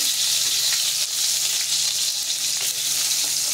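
Fish and eggplant frying in oil in a pan, a dense continuous sizzle that crackles steadily throughout at close range, with no voices.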